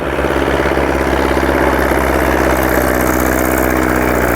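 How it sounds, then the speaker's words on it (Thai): A Kubota M5000 tractor engine idles loudly and close by with a steady, throbbing diesel chug and vibration, running without any speech, during work moving piles of rice husks. "ได้รถไถคูปบต้าเอ็มห้าพันครับ"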